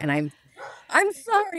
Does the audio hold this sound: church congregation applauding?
no